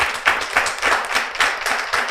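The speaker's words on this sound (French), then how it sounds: "On applaudit très fort pour montrer qu'on est là." A studio audience applauds loudly and steadily, a dense wash of many hands clapping with rhythmic surges, close and without any talking.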